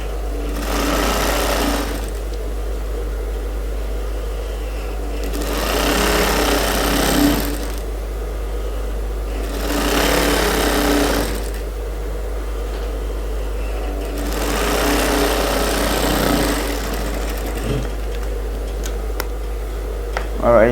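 Sewing machine stitching a suit, running in several bursts of rapid rhythmic mechanical chattering separated by short pauses, with a steady low motor hum throughout and light handling noises.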